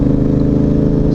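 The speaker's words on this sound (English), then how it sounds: "You hear those downshifts, people?" A motorcycle engine downshifts, its loud close mechanical drone holding steady tonal layers with a faint whir, all with no voices.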